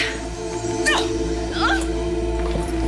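A dog gives a few short yips and whimpering whines, two distinct high rising cries about a second apart, set against a steady background hum in a dramatic scene.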